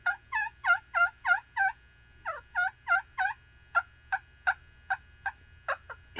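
A hand-operated turkey call imitates the soft contact calls of a feeding hen walking and pecking with the flock: a steady series of short, clear yelps and clucks, evenly spaced, close and alone.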